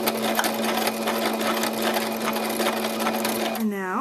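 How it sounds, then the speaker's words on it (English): A sewing machine back stitching fabric for a hat, running steadily at close range with a constant motor whir and rapid needle clatter that winds down at the end; a voice is faintly present. "I'm going to back stitch."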